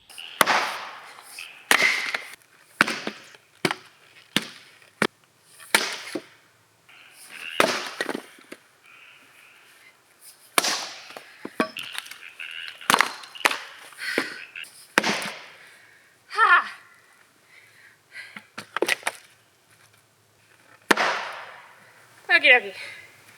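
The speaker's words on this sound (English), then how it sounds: "a bigger round is probably going to need a couple power swings to get that initial chop" An axe power-chopping wood rounds outdoors, a long series of sharp, loud, close chopping impacts at irregular intervals, with some faint ringing and quieter knocks between strikes.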